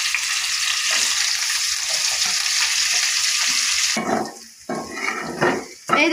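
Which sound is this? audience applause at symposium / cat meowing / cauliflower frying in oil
cauliflower frying in oil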